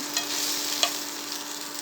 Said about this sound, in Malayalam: ഇതേമാതിരി നല്ല ഫ്രൈ ആകണേ